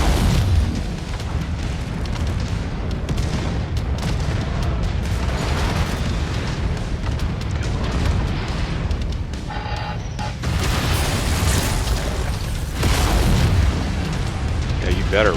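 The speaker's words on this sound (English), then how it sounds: "Those are missiles." Missile explosions in the mech combat game MechWarrior Online rumble and boom continuously, heavy low thuds piling over each other, with a brief lull partway before the barrage resumes.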